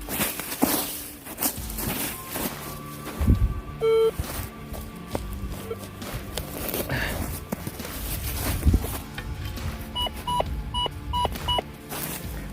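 A metal detector sounds a signal tone while searching in a forest, with short electronic beeps and a held tone among footsteps, rustling of leaves and scraping, and someone talking quietly over it.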